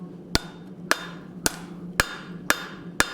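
Hammer blows on hot steel at an anvil while forging a hot cut hardy, six sharp ringing strikes at a steady rhythm about half a second apart, close and loud with no talking.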